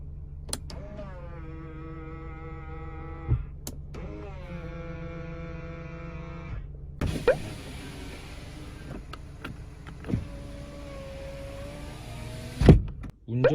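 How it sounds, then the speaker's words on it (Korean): Electric folding side mirrors on an SM5 Impression LE midsize sedan: two steady, whining motor runs of about three seconds each, followed by fainter clicks and rustling inside the car. "접이식 사이드 미러"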